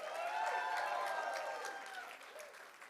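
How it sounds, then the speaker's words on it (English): Applause from the audience at a wedding reception, a steady broadband clatter of many hands that holds fairly loud throughout and tapers slightly toward the end. "Let's give him another round of applause."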